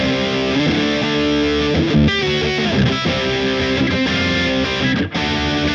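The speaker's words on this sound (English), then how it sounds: "you're going to notice some hiss" Loud, dense distorted noise from a guitar distortion channel fills the whole stretch, a constant hissing buzz with shifting tones and a brief dip near the end.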